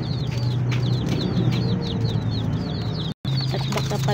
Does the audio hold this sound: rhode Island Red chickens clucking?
yes